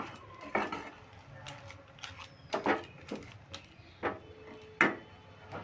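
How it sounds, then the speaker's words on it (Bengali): A spoon stirs sugar into a semolina mixture, giving irregular scrapes and sharp clinks against the bowl, spaced a second or so apart and close by, with no voices. "চিনিটাও আমি ভালো করে মিশিয়ে নিচ্ছি।"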